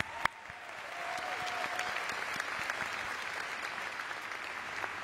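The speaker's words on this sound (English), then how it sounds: "Can we get a round of applause for her real quick?" An audience claps in a steady, dense round of applause that builds quickly after a sharp opening clap and holds evenly, with faint voices and a thin whistle-like tone in the mix.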